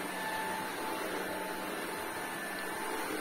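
A cordless stick vacuum cleaner runs with a steady, even whine and airflow hum that stays constant throughout with no interruptions.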